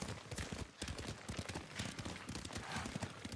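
Horse hooves clip-clop in a quick, steady rhythm as a rider travels on horseback through the game Ghost of Tsushima, close and continuous over a low background.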